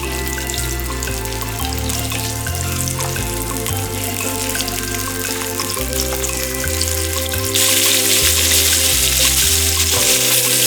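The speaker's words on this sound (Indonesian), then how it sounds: "Tambahkan daging udang tiger ke dalam wajan penggorengan untuk dimasak terlebih dahulu." Tiger prawns fry in a wok, giving a steady, loud hissing sizzle throughout that grows brighter and louder toward the end, with music playing underneath.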